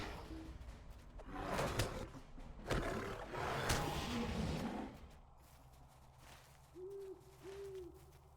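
A Battle Cat creature in Lord of the Rings Online lets out several loud, rough roars over the first few seconds, followed by quieter, hollow hooting calls near the end.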